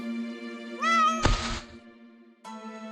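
A cat meows twice, a drawn-out rising call followed by a shorter one near the end, with a soft thump in between, heard close against a quiet background.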